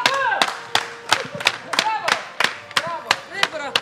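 A studio audience on a heated TV talk show claps in a steady, fairly brisk rhythm of sharp, close claps, about three per second, while voices talk underneath.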